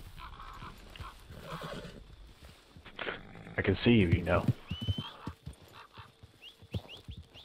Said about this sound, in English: Oh no, that's not fair, you're on your horse.